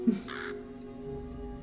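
A crow gives a single short caw, moderately loud and fairly close, followed by quiet background hum.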